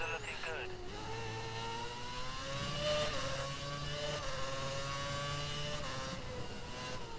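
Race car engine screaming at full revs in a racing game around the Japan Grand Prix circuit, a steady high whine with shifting pitch running loud throughout the clip, with a voice talking over it.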